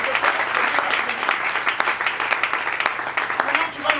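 A church congregation breaks into steady applause, dense clapping from many hands filling the room for several seconds, with voices mixed in beneath it.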